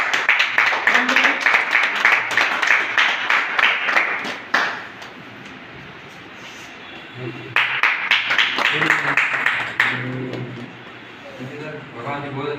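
Seminar audience in Jaipur bursting into loud applause in two long waves of dense clapping, broken by a pause in which someone speaks over a microphone.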